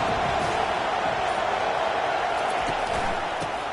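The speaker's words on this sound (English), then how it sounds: "The stadium's loud and noisy." Packed college football stadium, with a dense, loud, constant roar of the crowd that fills the whole stretch. Faint thuds sit under it and a commentator's voice talks over it.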